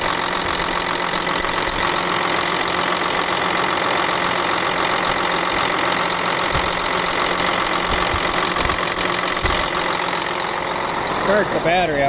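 A Ford F350 Powerstroke turbo diesel engine idles steadily and close by, a continuous loud rumble with a clattering texture throughout, and a brief voice near the end.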